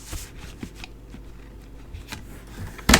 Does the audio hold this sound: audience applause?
no